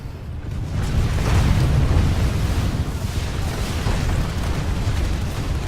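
A deep, rumbling vehicle explosion in the video game Planetside 2 rolls on for several seconds, loud and sustained, with a heavy low roar that slowly settles but never fully fades.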